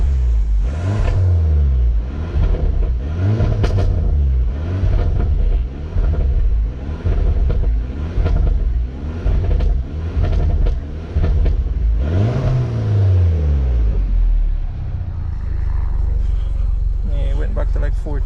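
A Mini Cooper R56 fitted with a big turbo upgrade idles loudly up close and is blipped repeatedly, each rev rising and falling, with one longer rev near the end before settling back to idle.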